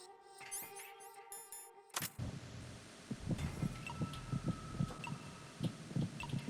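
A steady, muffled heartbeat pulses from the Metal Gear Solid 2 game, a regular low thumping over a dense electronic hum after a brief musical sting at the start.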